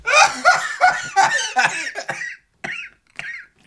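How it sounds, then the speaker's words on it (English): Several sharp, breathy coughs come in short bursts, mixed with laughter at first, then two isolated coughs separated by brief silence near the end. "So when you cough, right."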